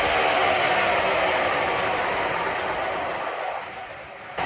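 A Bridgeport milling machine runs with its step pulley turning smoothly, giving a steady, dense whirring hum close by that eases slightly toward the end, with no scraping or clatter.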